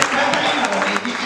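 Applause rises from a worship crowd in church, a dense, continuous wash of clapping under a loud preacher's voice that carries throughout.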